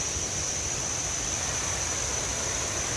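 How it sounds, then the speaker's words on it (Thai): Small waterfall at Huay Luang in Chok Chai gives a steady, soft broadband rush of falling water, even and unbroken throughout, with no voices. "ตรงนี้ก็จะเป็นน้ำตกนะครับ"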